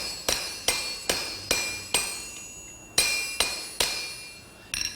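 Steady ringing hammer blows on a bottom swage tool as a water leaf is forged for a garden gate: about ten sharp metallic strikes at a regular pace, each followed by a short bright ring, close and clear.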